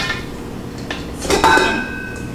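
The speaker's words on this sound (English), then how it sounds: "I'm just gonna put these in a separate bowl because I'm going to need to use this bowl now" A spatula scrapes stiff whipped egg whites out of a bowl into another for confetti cupcake batter, giving a brief run of utensil clinks and scraping against the bowl, near and moderately loud, with no talking.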